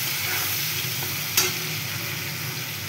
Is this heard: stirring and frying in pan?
yes